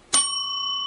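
A single bright bell is struck once, close and clear, and its pure ringing tone sustains evenly without fading.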